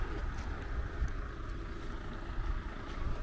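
A Mercedes-Benz Actros V6 truck engine rumbles at a low, steady idle, fairly faint and distant, with slight surging pulses and no talk.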